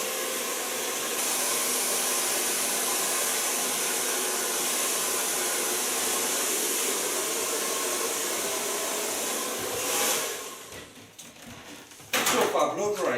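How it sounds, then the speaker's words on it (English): Handheld blow dryer drying a long-to-shoulder-length bob in a salon, a steady broadband whoosh running close and loud for about ten seconds before it cuts out, followed by quieter handling noises and a short burst as airflow resumes. "So far blow drying."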